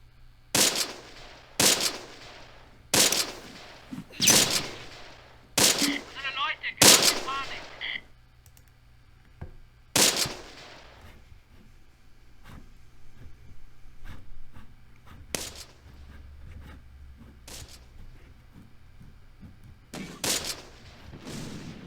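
Repeated gunfire in the WWII tactical game Close Combat, with the 10th SS Panzer in a defensive battle: a fast run of sharp, loud shots, then sparser single cracks and bursts spread out over quiet gaps.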